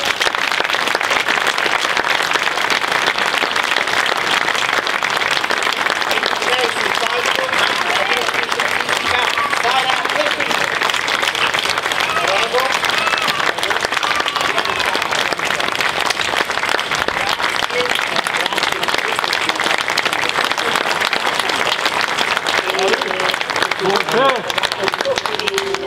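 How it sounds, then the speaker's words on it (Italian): Sustained, loud applause fills the hall at an operetta award ceremony, the Premio Nazionale Operetta, as a large audience claps continuously for nearly half a minute with little variation. "un applauso ancora"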